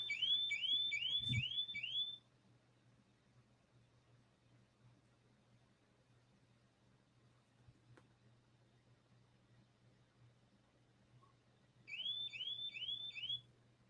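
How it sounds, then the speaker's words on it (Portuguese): A home alarm sounds in short bursts of rapid repeating electronic chirps, one burst at the start and another near the end, separated by a long stretch of near silence with a low steady hum. "Ativou o alarme aqui de casa aqui."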